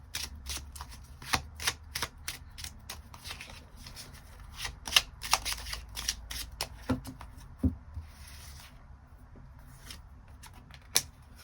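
Tarot cards being shuffled and drawn, a steady run of crisp riffling slaps and soft card flicks with brief pauses, close and fairly quiet, no talking.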